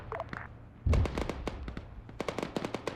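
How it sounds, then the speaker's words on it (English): Artillery in the video game Arma 3: one heavy booming blast lands near the one-second mark, followed by a scatter of sharp crackling reports and pops of varying loudness. "Yeah, good artillery. Very good artillery."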